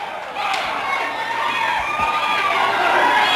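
An NWA wrestling arena crowd roars and cheers loudly, a continuous swell of noise with a couple of thuds, while a commentator's voice carries over the top.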